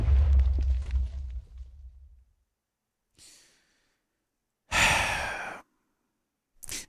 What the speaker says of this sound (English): Create an explosion around you with C.